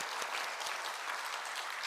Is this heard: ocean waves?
no